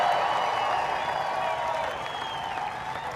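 A large fairground crowd at an outdoor evening celebration applauds and cheers in a sustained roar, with scattered whoops and whistles rising above the clapping before it gradually tapers off.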